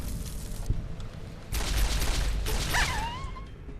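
Energy shots from a recharger weapon in Fallout New Vegas crack out as a few sharp bursts, each followed by a short electronic whine, fairly quiet and with no talking.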